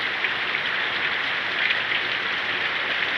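Heavy spring rain pounds a terrace in a thunderstorm, a dense, steady hiss of drops drumming on the surface close by, with no talking.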